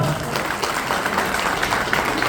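An audience at a business advisors' event applauds for the company's founder, producing dense, even clapping that holds steady for a couple of seconds.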